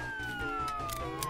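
A police car siren in the Roblox Jailbreak video game wails as a single slowly falling tone over a low engine-like hum, with no one talking.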